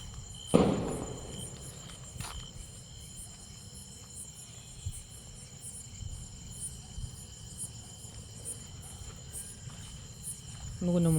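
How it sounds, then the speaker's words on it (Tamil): Firecrackers burst in the distance, a sharp crack near the start and another at the end, over a steady background of chirping crickets. "எல்லாம் பட்டாசு வெடிக்கிற சவுண்டு."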